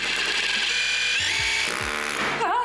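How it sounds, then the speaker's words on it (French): A power drill bores a first hole into a wall indoors with a loud, close, continuous grinding whine that shifts in pitch as the bit bites in. "je fais mon premier trou dans le mur"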